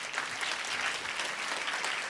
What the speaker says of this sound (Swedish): En stor applåd igen till vår panel.